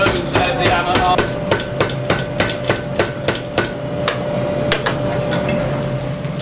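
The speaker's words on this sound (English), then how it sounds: "We use a foot operated hammer" A foot-operated Tommy hammer strikes chain links in a Black Country chainmaking forge, giving a steady series of sharp metallic blows, about a dozen evenly spaced, loud and close over a low workshop hum.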